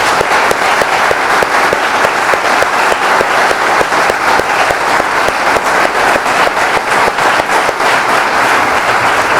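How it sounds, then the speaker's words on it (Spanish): An audience claps continuously and loudly for the human rights group Provea. The crowd's applause is dense and even for nearly ten seconds, with no talking over it. "Provea merece todos los aplausos posibles"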